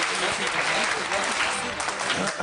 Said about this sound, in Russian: аплодируем, уважаемые гости, поддержим